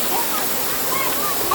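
The Dolai waterfall in Muzaffarabad, Kashmir roars in a steady, dense, broadband rush of falling water, loud and close throughout with no break.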